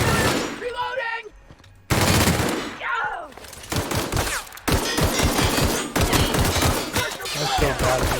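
Dense bursts of gunfire from The Outer Worlds come in rapid volleys with thumps and mechanical clatter between them, loud and close, with a voice speaking briefly over the shooting.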